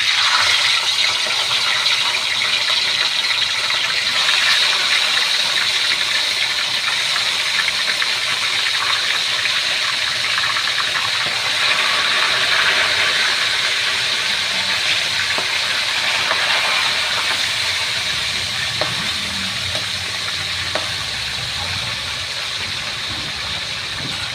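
Tilapia fish frying in hot oil, a steady loud sizzle and crackle that holds throughout with no talk, slightly easing toward the end.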